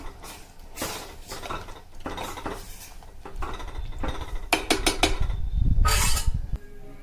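Metal spoon scraping and clinking against a pan while mixing sweet lemon pickle with red chilli powder and roasted cumin powder, with repeated stirring strokes and knocks building louder toward the end.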